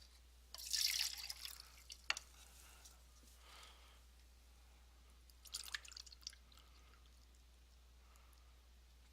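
Water is poured from a cone into a cylinder of the same dimensions, making faint, brief splashing and trickling bursts separated by quiet pauses.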